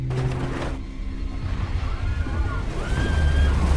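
A bus with a blown tire plunges into a river in a Superman film, heard as a heavy splash followed by steady sloshing and churning water, with a narrator talking over it.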